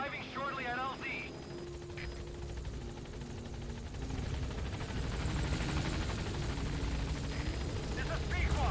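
A helicopter in Metal Gear Solid V: The Phantom Pain arrives at a landing zone, its rotor drone and hum holding steady and building slightly louder toward the end, with a radio voice speaking over it.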